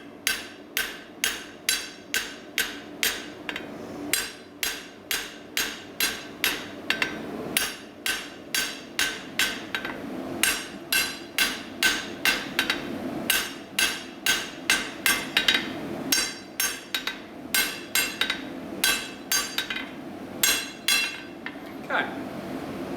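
Light, rapid hammer taps ring on a metal bar in steady bursts of strikes with brief pauses between them, close by, during light hammer finishing.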